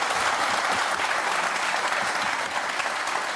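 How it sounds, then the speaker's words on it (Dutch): A studio audience applauds steadily for a 70th birthday on a Dutch talk show, a dense, even wash of clapping with no voices heard over it. "Ja, je mag applaudisseren, hoor."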